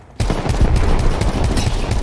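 Dense, rapid gunfire bursts from a video game, loud and continuous after a brief quiet start, with overlapping shots and no talking.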